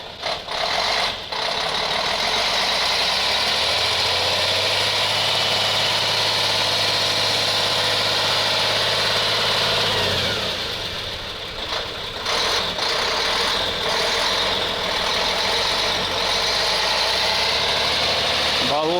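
A Praga V3S 6x6 truck on big wheels runs in first high gear while crawling through a thick swamp, its engine droning steadily and loudly with a low rumble that shifts partway through, with brief voices over it.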